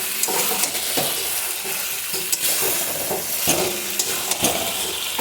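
Chicken stirred and frying in a pan while being braised, a steady sizzle with repeated scraping stir strokes throughout, close and fairly loud with no talking.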